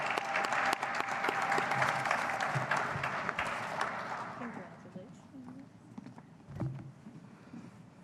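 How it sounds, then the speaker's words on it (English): Audience applause for student awardees at a law school commencement, dense clapping for about four seconds that then fades away into quieter room sound with a few scattered noises. "Let's please give them one last round of applause."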